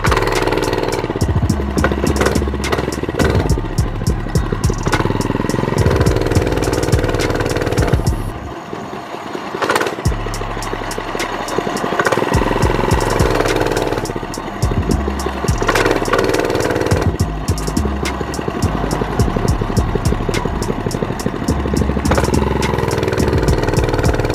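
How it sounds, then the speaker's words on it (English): A mini bike engine runs loud and close while being ridden at a mini bike event, a continuous buzzing drone with revs rising and falling and one brief dip before picking back up. "Get subs while we riding around on a mini bike."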